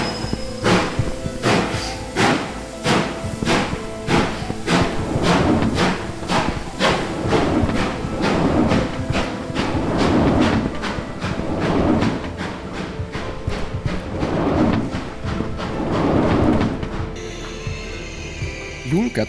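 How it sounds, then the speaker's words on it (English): A moving train in the video game Railgods of Hysterra, with a steady rhythm of heavy mechanical clanks and thumps repeating about once per second, loud and close, before shifting to a quieter tone near the end. "the train sounds and feels phenomenal"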